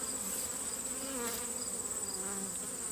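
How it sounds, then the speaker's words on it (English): A swarm of honeybees hangs in a nectarine tree, giving off a steady, close, continuous buzzing hum from many wings with no talk. "I know some people would get very nervous about the idea of being this close to a swarm of bees"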